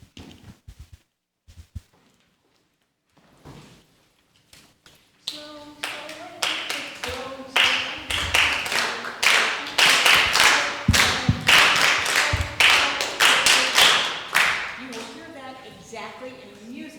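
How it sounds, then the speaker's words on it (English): After a quiet start with scattered taps, an audience claps a steady rhythm together for a children's dance at a harvest celebration, sharp, evenly spaced claps growing louder and fairly close, with voices briefly audible. "we're going to clap the rhythm"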